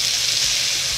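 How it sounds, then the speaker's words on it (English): Beef silver skin sizzles in hot oil in a pan, a steady, close, continuous hiss and crackle with no talking. "Hearing that sound, seeing how it's sizzling well, I'm gonna start adding some meat to the pan."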